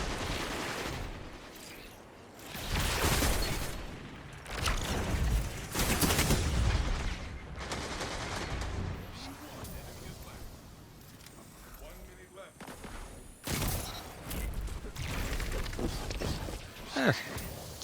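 Sniper rifle shots in a Destiny 2 Trials match ring out as several loud, separate cracks spaced seconds apart, with quieter gunfire and movement between them, and someone talking over the action.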